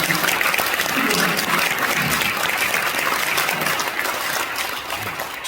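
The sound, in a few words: congregation applauding in church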